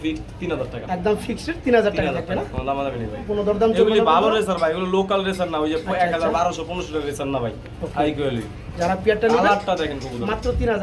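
A flock of racing pigeons kept for sale coos throughout, with near, rhythmic, overlapping throaty calls while people talk close by.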